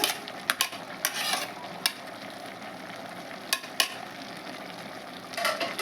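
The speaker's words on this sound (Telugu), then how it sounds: "కోసి పెట్టుకున్న టమాటా ముక్కలు, కరివేపాకు వేస్తున్నాను." Tomato pieces and curry leaves fry in a pan for a chicken curry, a steady sizzle broken by a few sharp spatula scrapes and clinks.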